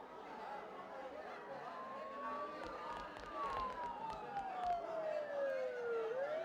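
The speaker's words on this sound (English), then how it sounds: "Don't those sirens sound really close?" A video game siren wails, sweeping up and down at moderate distance over a continuous bed of ambient noise, with faint chatter-like sounds scattered throughout.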